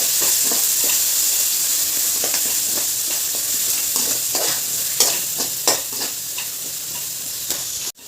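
A spoon stirs a sizzling tempering of oil and garlic in a pan for gongura chutney powder, continuous frying hiss with regular scraping strokes, close and loud, with no talk.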